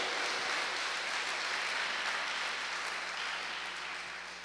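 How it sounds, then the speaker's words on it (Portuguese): Church congregation applauding, a steady broadband wash of clapping that holds evenly for several seconds at moderate distance, then tapers slightly at the end, with no voices over it. "Você pode aplaudir Jesus por isso?"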